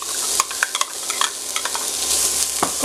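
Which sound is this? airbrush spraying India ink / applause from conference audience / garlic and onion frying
garlic and onion frying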